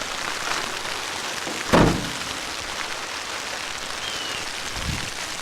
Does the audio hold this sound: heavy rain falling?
yes